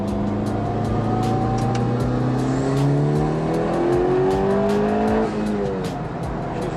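Mitsubishi Evo 9 with a freshly installed head, running under turbo boost, its engine note climbing steadily and loud through the gears before easing off near the end.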